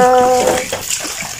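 A tap runs hard with a strong, rushing, splashing flow, loud and close, with a brief tonal hum at the start.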